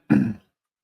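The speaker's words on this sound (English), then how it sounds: "excuse my cough there" A single short, close cough or throat clear from a man mid-talk, lasting under half a second and followed by silence.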